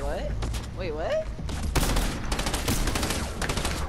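A rustic cannon fires in a video game gun-game match as a dense, loud burst of rapid shots. A voice is heard briefly just before the shooting starts.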